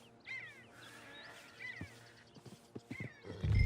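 A horse whinnies with a rising, shaky call in the video game Red Dead Redemption 2, followed by scattered hoof clops and bird caws, ending in a low rumble.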